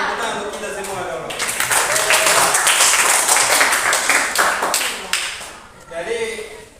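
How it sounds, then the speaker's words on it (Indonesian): Classroom applause after student group presentations, a dense burst of many hands clapping together for several seconds, then tapering off with some voices mixed in near the end. "Tepuk tangan untuk kita semua dulu"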